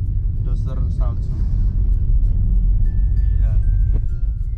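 A snow plow vehicle drives along a snowy road on the way to Shirakawa-go, Japan, its heavy engine giving a steady low rumble throughout, with voices talking over it.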